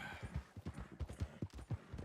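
A horse in Red Dead Redemption 2 walks with clear, close clip-clopping hoofbeats in an even, repeating rhythm over quiet in-game background sound.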